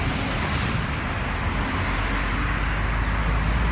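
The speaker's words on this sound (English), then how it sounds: "And this is good old traffic." Roadside traffic roars steadily and loudly beside the road where a car's top radiator hose is being repaired, with a dense, continuous rumble of passing vehicles and no talk.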